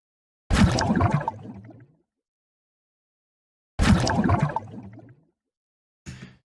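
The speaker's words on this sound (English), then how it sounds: "it's mostly made up of recordings of things being dropped into water" Two loud splashy bursts of bubbling water made from objects dropped into water, each about a second and a half, separated by silence, with a third brief burst starting at the end.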